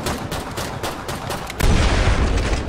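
Pistol shots in Killing Floor 2, about a dozen quick evenly spaced cracks up close, followed by a heavier booming impact and a low rumbling tail.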